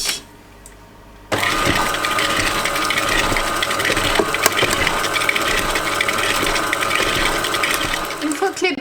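Butter, sugar and eggs whisked together for coconut biscuits, a steady loud mechanical whirr of an electric whisk starting after a brief quiet moment and running continuously.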